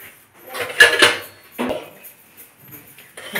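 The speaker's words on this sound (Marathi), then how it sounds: "आणि भांडी घासायला लागले मला भांडी पण घासून दिलंय" Dishes being washed by hand in a home kitchen, with metal pots, pans and utensils clattering and clinking in short irregular bursts, close up and with no talk over them.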